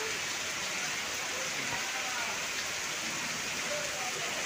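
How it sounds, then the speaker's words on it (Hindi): Heavy monsoon rain during the first downpour of the 2022 season in Mandla, amid a lightning storm, a steady dense roar of drops hitting surfaces that fills the whole scene with no break. "कड़कड़ा रही है बिजली, इतना भयंकर बारिश।"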